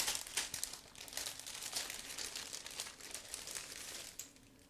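Plastic bags holding Eduard 1/48 Fw 190D-9 model kit sprues are opened up close, with continuous crinkling and rustling that rises and falls in bursts, with no voices.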